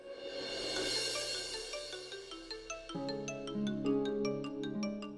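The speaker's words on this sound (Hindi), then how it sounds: "फोन आ रहा है" A phone ringtone plays a bright, repeating electronic melody that shifts pattern midway, steady and moderately loud with no talking.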